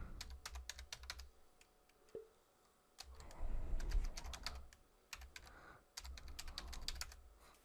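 Someone types on a computer keyboard in bursts of quick, crisp key clicks with short pauses between runs, close and fairly quiet.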